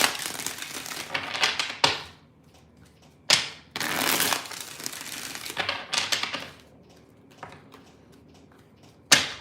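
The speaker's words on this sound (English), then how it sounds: "Three more shuffles. Three more." Tarot cards being shuffled by hand in bursts of riffling and crisp card flicks, with short pauses between several separate shuffles, close and fairly loud, no talking.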